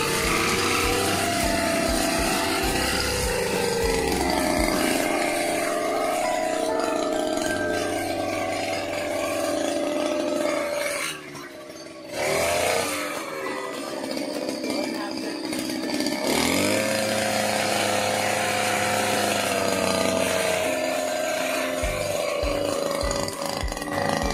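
A grass-cutting machine clears weeds in a backyard, its engine droning loud and steady close by, dipping briefly midway before revving back up to a continuous whine.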